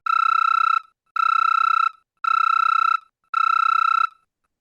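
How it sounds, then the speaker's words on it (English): A phone rings loudly and close in four identical electronic bursts, evenly spaced with brief silent gaps between them. "One of you gets rudely awakened by the sound of your phone."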